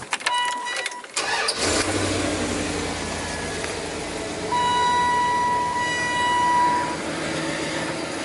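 A van engine with aftermarket ricer exhaust tips runs steadily at idle, a continuous rumble starting after a brief burst of noise, with a faint tonal hum entering midway.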